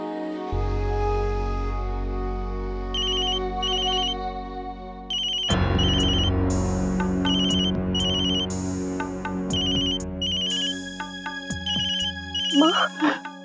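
A home telephone rings in a loop of electronic chiming tones, clear and fairly close, repeating in bursts with a soft melodic backing and a brief voice near the end.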